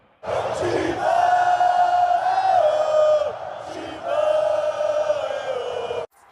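Corinthians football supporters at the stadium roar and chant together, a loud sustained crowd bellow with whoops that dips briefly midway and then surges again before cutting off.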